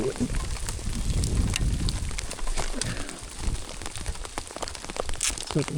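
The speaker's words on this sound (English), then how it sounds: "It's hailing." Hail falls steadily on a sandy mountain trail along Idaho's Backcountry Discovery Route, making a dense, crackling patter dotted with sharp ticks of individual stones throughout.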